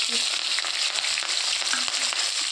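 Chopped onion hits hot oil already sizzling with dried red chillies and black cumin seeds, a dense, steady frying hiss close by with a few faint clicks of stirring, no voices.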